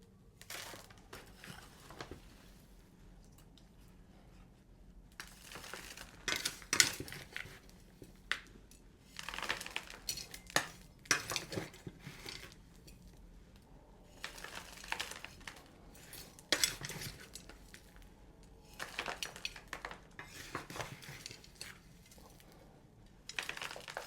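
Soil and potting mix scraped and poured around a large houseplant being repotted, giving irregular crumbly scrapes, knocks and rustles in repeated bursts at close range, with no talking.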